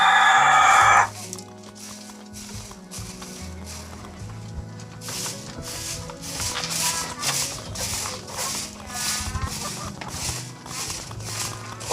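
Hens cluck and cackle in a busy run of short calls over a constant background hum inside a coop, after a brief loud rustle at the start.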